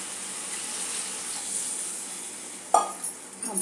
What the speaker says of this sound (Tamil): அப்படியே அது மசாலாவையும் வதக்கி விட்டுடலாம். இந்த எண்ணெயில் ஒரு 5 நிமிஷம் வதங்கட்டும்.